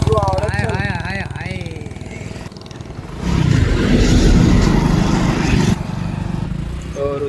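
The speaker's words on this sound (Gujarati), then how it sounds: "તો રુદ્રભાઈ આપણા હવે બાઇક ચલાવે છે." A motorbike ridden along the road: a loud, steady engine and wind roar swells in after a stretch of talking and then eases back slightly, with voices heard early on.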